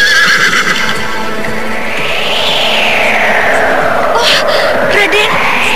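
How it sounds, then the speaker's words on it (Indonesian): Horse neighing loudly with a long rising and falling whinny over steady hoof clip-clop, a galloping mount carrying riders, with a faint echoing effect throughout. "luar biasa sekali lari kuda ini"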